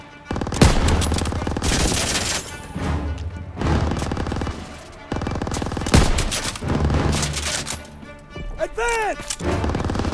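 Machine gun fire in the World War II shooter Call of Duty: WWII, loud bursts of rapid shots in several separate volleys with short gaps, mixed with explosions and shouted voices.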